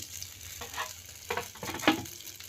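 Meat curry simmering in a pan beside other dishes on the stove, with a soft bubbling sizzle and a few clinks and stirring knocks near the end, no talk.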